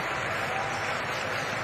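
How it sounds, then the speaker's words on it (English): A large stadium crowd at a European Athletics Championships session lets out a low, sustained groan, a dense wash of many voices that holds steady and loud for under two seconds. "I heard a groan."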